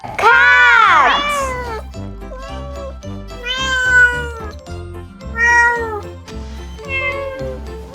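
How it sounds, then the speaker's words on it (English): Cartoon cat meows several times in a children's alphabet learning song, loud bright mewing calls over a steady musical backing with light jingling. "Cat!"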